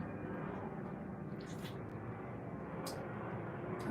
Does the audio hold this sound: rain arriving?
no